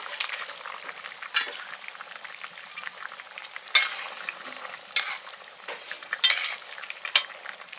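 Fried koi fish go into a bubbling mustard-oil curry with half-cooked potatoes and green chillies, a soft steady simmer and sizzle punctuated by scattered louder splashes and spoon stirs.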